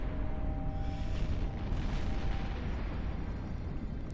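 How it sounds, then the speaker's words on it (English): Missile impacts on a player's ship in the EVE Online space game, a dense, continuous rumbling barrage of booms and low explosions rolling on without pause, with no talk. "He's hitting me with the missiles."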